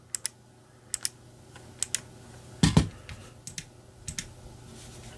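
Sparse, crisp clicks from a SteelSeries Aerox 3 Wireless 2022 Edition gaming mouse, including its DPI button, some single and some in quick pairs, close up in a quiet room, with one louder clattering burst midway.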